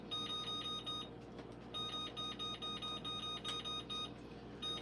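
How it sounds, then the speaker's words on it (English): A kitchen timer, set for 20 minutes while a vanilla bean pound cake bakes, sounds rapid high-pitched beeps in steady repeating bursts that continue throughout. "And now let's set a timer for 20 minutes."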